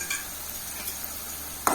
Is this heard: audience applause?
no